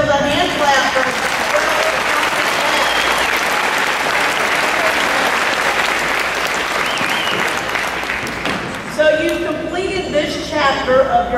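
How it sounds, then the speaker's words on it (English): An elementary school fifth grade graduation audience bursts into sustained applause and hand clapping, loud and dense at first, then thinning as voices and scattered cheers rise over it. "Let's give yourselves a hand clap for"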